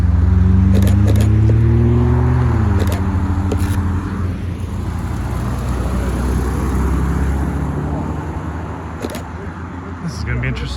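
A Porsche GT3 rumbles in and passes nearby at a supercar meet in thick fog, its engine note rising and falling over steady crowd noise, with a few camera clicks.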